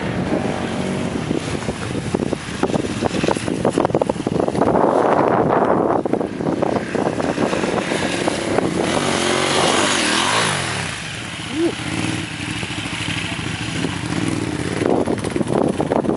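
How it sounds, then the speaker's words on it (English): Dual sport adventure motorcycles climbing sand hills, their engines roaring steadily and close with heavy wind buffeting the microphone, the roar dipping briefly near eleven seconds before building again. "Not very many better sounding bikes now."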